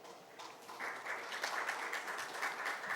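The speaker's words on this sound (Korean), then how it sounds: "큰 박수로 맞이해주시기 바랍니다." An audience at an academic business conference session welcomes a speaker with applause that starts faintly and swells into steady, moderate clapping from a room full of people, heard on its own without talk.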